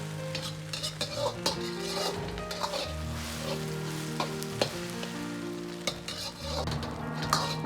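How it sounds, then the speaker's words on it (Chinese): Egg being stir-fried in a wok with green chili peppers: sizzling under frequent metal spatula scrapes and clinks in an uneven rhythm, close and clear, with no talking. "然后再翻炒均匀，稍微多翻炒下，把鸡蛋炒至两面焦黄"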